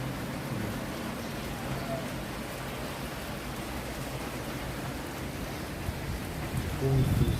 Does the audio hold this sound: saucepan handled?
no